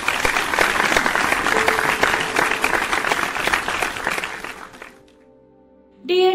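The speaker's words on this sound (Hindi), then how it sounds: "तो बच्चों बजाओ ताली।" Children clapping together in a burst of applause for a rhyme, dense and steady for about five seconds before it fades away, followed by a brief musical sting at the end.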